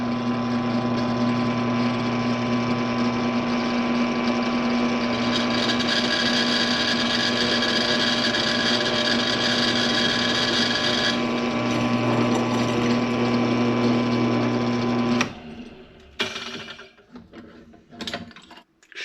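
A Bauer 10-inch 5-speed drill press bores a hole through pipe with cutting fluid, giving a loud, steady motor whine with a grinding cutting tone that cuts off abruptly, followed by a few clattering knocks.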